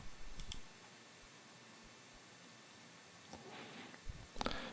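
Computer mouse clicks while opening a profit and loss report tab in QuickBooks, with a few quiet, sparse clicks and a small cluster of soft clicking near the end over a near-silent background.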